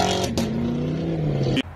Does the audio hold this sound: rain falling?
no